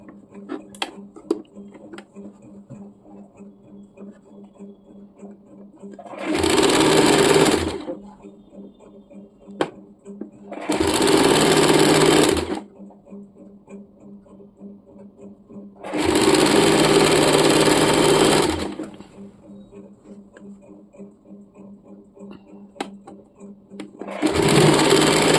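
A sewing machine stitches a folded cotton fabric hem in four separate whirring bursts of a few seconds each, loud and close, with a quiet hum and small clicks in the pauses between runs.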